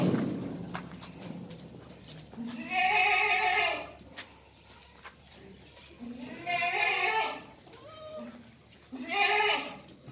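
Jamunapari goats on a farm in Ahmedabad bleat in several loud, drawn-out calls separated by pauses, close by, over faint background noise.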